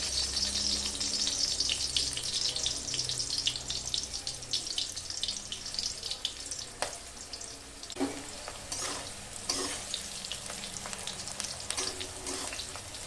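Round slices of bitter gourd fry in hot white oil, a steady bubbling sizzle filling the pan, with occasional clinks and stirring scrapes as pieces go in and are moved about.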